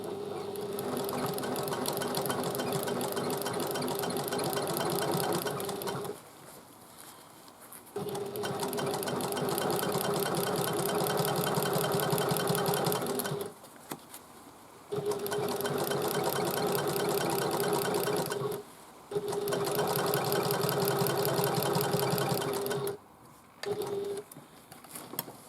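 A sewing machine top-stitches a bag at a quarter-inch seam allowance: a steady, rapid stitching whir runs in long bursts, broken by several brief pauses before starting again, with no talk over it.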